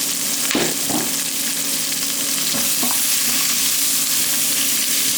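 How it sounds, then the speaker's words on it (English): Vegetables sizzle loudly and steadily in a pot for braised lamb shanks, a dense close frying hiss with a few stirring clatters near the start, and no one talking. "So next thing we're gonna do is we're gonna add the veggies right into the pot here."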